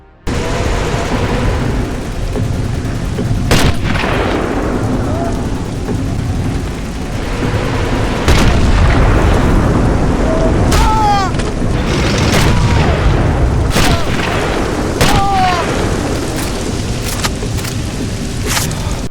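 Tank fight and explosion in the video game Sniper Elite, loud booming blasts and gunfire over a dense rumbling game soundtrack, repeated heavy impacts throughout.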